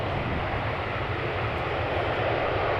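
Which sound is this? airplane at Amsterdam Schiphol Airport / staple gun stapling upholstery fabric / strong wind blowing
airplane at Amsterdam Schiphol Airport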